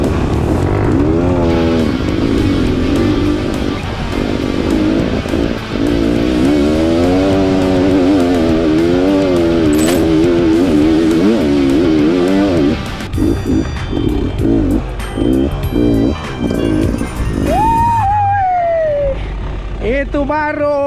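A motorcycle engine revs up and down loudly and close by, its pitch climbing and falling repeatedly, with voices talking over it at times, on a hill climb.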